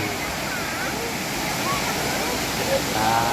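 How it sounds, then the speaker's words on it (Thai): Ked Sao Noi waterfall pouring steadily in the rain, a continuous broad rushing roar of falling water that stays even and close throughout, with no voices over it. "ถึงจุดหมายนะครับนั่นนะน้ำตกเก็ดสาวน้อย"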